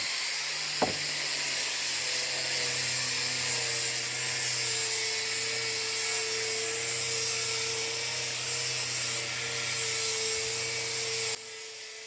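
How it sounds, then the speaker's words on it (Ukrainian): A power sander whines steadily on old wooden fence boards with a constant high hiss and a sustained motor tone, close and loud, stopping abruptly near the end. "Ми і паркан розбираємо і дошку шліфуємо"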